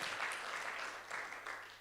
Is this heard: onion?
no